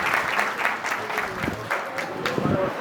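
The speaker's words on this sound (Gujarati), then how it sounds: "જોરદાર તાળીઓ છે" Audience at a Dodiya family community gathering in Chotila applauding, a dense, continuous clapping of a crowd with a speaker's voice over it.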